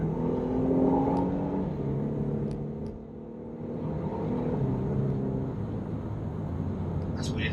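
A petrol Renault Megane GT with a seven-speed gearbox pulls along the Rockingham track at around 70 mph and low revs, giving a steady, droning engine rumble heard from inside the cabin.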